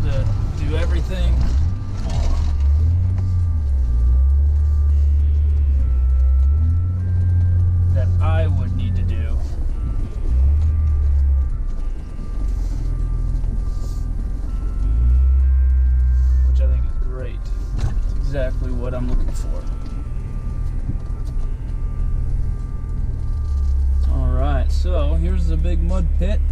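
A Honda Ridgeline pickup drives off-road along Fishhook Road in Alaska, its engine a steady low rumble that rises and falls with the terrain, while people talk inside the cab over the top of it.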